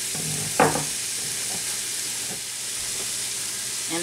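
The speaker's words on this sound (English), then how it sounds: "So you want to render this out until the onions are softened for about 5 minutes" Bacon, onions and jalapeno fry in a pot with a steady, close sizzling hiss, broken by a sharp stirring clatter near the start and a few softer scrapes later.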